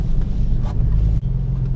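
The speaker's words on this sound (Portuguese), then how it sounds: "Ó, o ronco já tá diferente, né?" Nissan 370Z engine idling with a deep, loud rumble close to the microphone, a steady low throb with a brief dip partway through and no voices.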